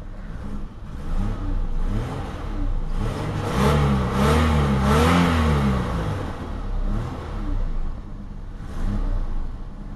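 A 1980s-era Eagle Premier car engine running after a two-month cold start, a steady mid-pitched engine note that swells into a revving rise mid-clip before settling back, heard up close.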